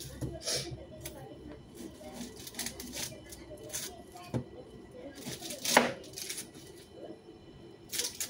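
A knife chops a white onion on a cutting board with irregular knocks and crisp slicing taps, close and moderately quiet, while a person talks over the kitchen work.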